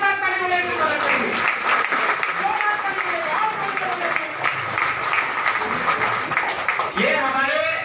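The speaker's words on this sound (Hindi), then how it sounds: "जोरदार ताली बजा के स्वागत करेंगे।" A crowd gathered to welcome a politician claps loudly and continuously, the applause mixed with voices and a speaker talking over it throughout.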